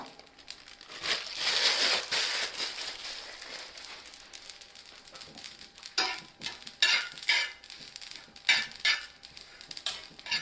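Mustard seeds and curry leaves roasting on a tava, with a steady crackling, rustling sizzle and intermittent scraping stirs, close and unaccompanied by speech.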